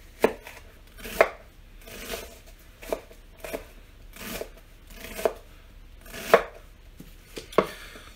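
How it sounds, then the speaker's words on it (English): A knife dices onions on a cutting board while venison chili is being made, giving about a dozen close, crisp chops in an uneven rhythm with no talking. "just dice through the onions a couple times, make sure they're all broken up good"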